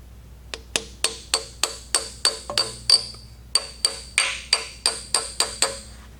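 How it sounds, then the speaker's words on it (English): A freeze plug being tapped into a Ford 390 engine block during a rebuild: a regular series of about fifteen sharp metallic hammer taps, close and ringing, with a short pause midway. "So I've tapped the plug in to get as level as I can."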